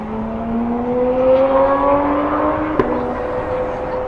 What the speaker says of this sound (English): a lot of loud cars